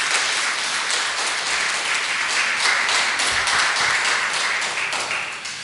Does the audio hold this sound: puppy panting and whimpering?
no